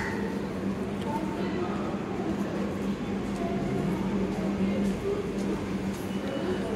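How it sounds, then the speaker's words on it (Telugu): A MEMU commuter train at Bangalore Majestic railway station gives off a steady, low rumble and hum, with station noise and indistinct voices in the background. "బెంగళూరులో 9:45 ఈ ట్రైన్, ఇప్పుడు మీకు చూపించే ట్రైను"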